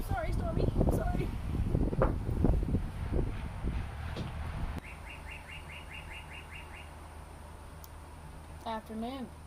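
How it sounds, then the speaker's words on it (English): Birds chirp outdoors in quick repeated tweets, a fast series midway and a warbling call near the end, mixed with clattering and voices early on and a steady low hum throughout. "Birds."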